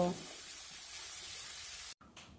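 Small mourola fish frying in a karai over raised heat, a steady broadband sizzle that holds evenly before cutting off abruptly near the end.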